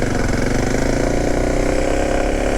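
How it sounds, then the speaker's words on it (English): A motorcycle engine running steadily up close in first gear with a little throttle, a loud, even, throbbing drone that holds constant without pauses. "Starts up. First gear. A little bit of throttle."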